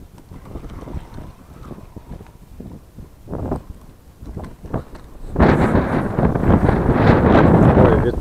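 Strong wind buffets the microphone in rough gusts, swelling into a loud, sustained roar in the second half, on a riverbank while fishing on the Oka River.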